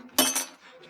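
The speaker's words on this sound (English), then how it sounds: "Now a little melody using 3 ordinary glasses of water." A single ordinary glass of water struck once, giving a bright, sharp clink that rings briefly and fades, close and moderately loud with little else around it.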